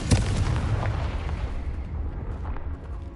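A Confringo fire spell explodes in Hogwarts Legacy, a single loud booming blast with a sharp onset that rolls off into a fading rumble over about three seconds.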